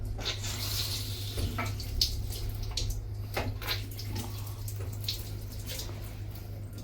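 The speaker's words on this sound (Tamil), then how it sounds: "ஐயோ, அதில் தண்ணி வருது." Water runs from a shower fixture in a caravan bathroom, a steady low hiss with a few faint drips and clinks, quiet throughout, over a constant low electrical hum.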